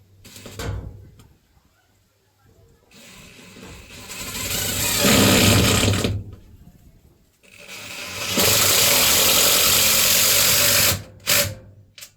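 A power tool fitted with a socket, working on a van's raised floor, runs in bursts. A brief whir comes first, then two long loud stretches of motor whine separated by quiet pauses.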